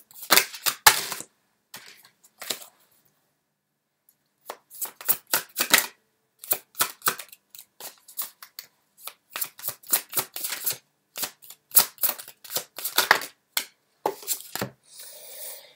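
Tarot cards are shuffled and drawn by hand, giving close, crisp riffling and slapping bursts in irregular clusters, with brief silent gaps between them.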